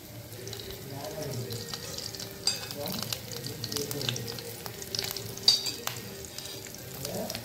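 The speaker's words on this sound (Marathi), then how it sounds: "ह्याच्यात आपण चण्याचं पीठ असतं ना आपलं ते घ्यायचं फ्राय करून" Chickpea flour frying in a little oil in a pan, a soft continuous sizzle with intermittent scraping and clinks of a spoon against the pan, a voice talking faintly underneath.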